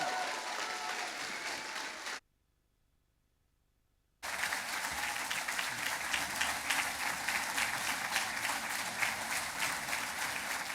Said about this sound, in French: Je vous invite à applaudir Oscar Lafontaine.